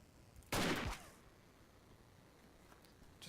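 Single sharp rifle shot in Verdun, a World War I shooter, cracking loudly once and then fading into a quiet battlefield hush with faint distant noises.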